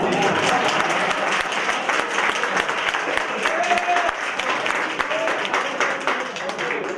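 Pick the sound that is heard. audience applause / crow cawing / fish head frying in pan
audience applause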